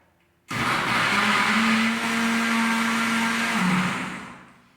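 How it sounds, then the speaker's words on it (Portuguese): A blender starts abruptly and runs loudly for several seconds, crushing beetroot with water, its motor pitch dipping and wavering as it churns liquid, then winds down at the end. "Para o liquidificador, dá uma mexida e aí ela vai batendo."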